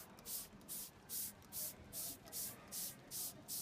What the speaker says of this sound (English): Spray some BioClean Heavy Duty Degreaser onto a micro cleaning hand pad.